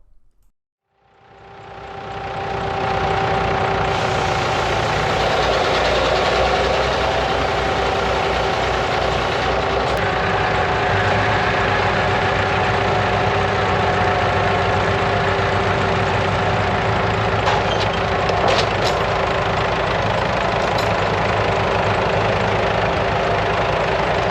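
A tractor engine runs steadily under load while lifting a red cedar log at a sawmill, a loud, constant low drone that starts up after a moment of quiet and holds for over twenty seconds, with no talking.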